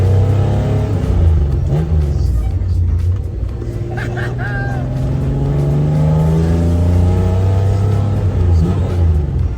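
A rumbling engine of an old Nissan Skyline Hakosuka revs up and down nearby, its low throaty pitch rising and falling over several seconds, with a voice faintly underneath.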